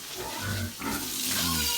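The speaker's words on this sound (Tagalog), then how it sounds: "Baboy oh." A pig grunts and oinks several times at close range, low rough snorts with a short pause in the middle.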